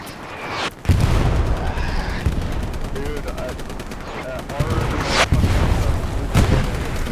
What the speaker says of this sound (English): This artillery's not good